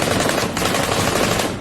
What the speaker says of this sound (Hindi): उसकी गोद में भारी भरकम असॉल्ट राइफल नजर आई जिससे उस बच्ची ने एक के बाद एक कई गोलियां दागी